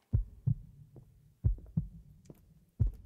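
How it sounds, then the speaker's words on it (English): A synthetic heartbeat effect thumps in paired lub-dub beats, three double pulses spaced about 1.3 seconds apart, deep and close with nothing else around it. "Heartbeat."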